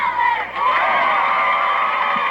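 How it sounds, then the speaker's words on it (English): A home football crowd at a high school game between the Knightstown Panthers and the Lapel Bulldogs, a steady wash of cheering and shouting voices, moderately loud and sustained throughout. "Good crowd on hand, as we said."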